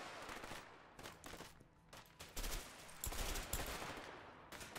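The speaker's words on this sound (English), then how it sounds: "Are we getting shot from the side here?" Video game gunfire crackling in repeated bursts and rapid volleys, moderately loud and fairly close, with no clear talk.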